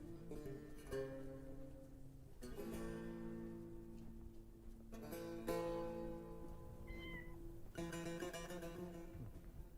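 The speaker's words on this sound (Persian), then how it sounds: "بابا عزیز من صدای گربه شنیدم." A cat meows several times in a row, moderately loud and near, with drawn-out tonal cries over a steady background and no talking.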